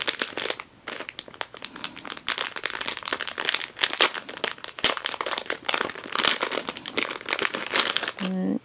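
Crinkly plastic packaging around compression socks being unwrapped and handled, a dense, continuous crackle of crumpling plastic close up.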